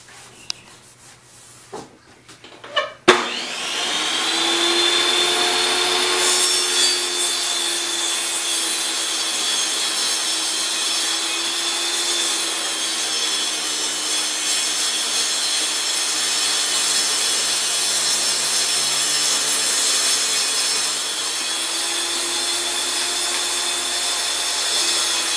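Power saw, likely a table or router setup, cutting dados and grooves into wood panels for a display case base; a steady, loud, continuous whine runs for over twenty seconds after a few short knocks at the start.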